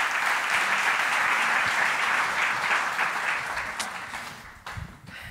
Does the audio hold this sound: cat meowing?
no